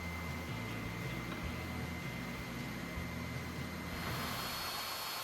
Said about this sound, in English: My sander is a perfect tool to clean up the shape after using the bandsaw.